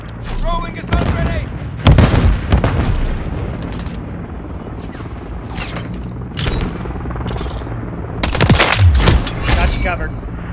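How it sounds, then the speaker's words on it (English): A stun grenade is thrown and goes off in a Call of Duty MW3 match, heard as several loud, sharp bursts amid dense gunfire and battle noise, with voices talking over the chaos. "Throwing a stun grenade!"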